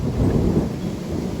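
Steady Texas rainstorm with rain and hail pouring down outdoors, a dense continuous wash of falling water with low rumbling underneath, loud and unbroken throughout.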